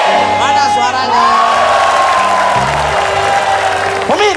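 A studio audience at an Indonesian TV talk show claps and whoops in a loud, steady burst lasting a few seconds, with voices and tonal backing mixed in.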